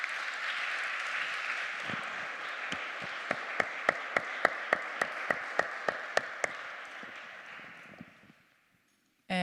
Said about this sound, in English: I think we can do an applause.